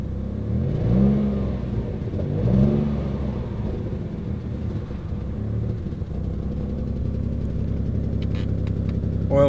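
A Mitsubishi 3000GT VR4 engine idles with a deep rumble, rising in two revs near the start before settling back to a steady idle.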